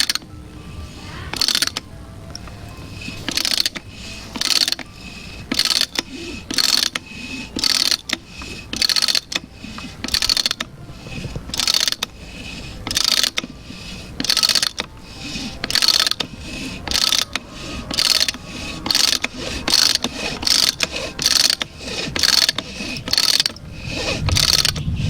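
A hand threading die cuts threads onto PVC pipe. A loud, close, rhythmic ratcheting clicks in repeated bursts as the handle swings back and forth, with brief pauses between strokes.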